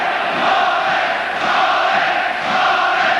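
Boxing crowd chanting in an arena, a loud, steady wall of massed voices swelling and dipping in a rhythmic chant throughout.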